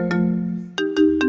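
An incoming call rings into a live broadcast, a short electronic ringtone with a sustained tone followed by quick rising chirps, loud and close.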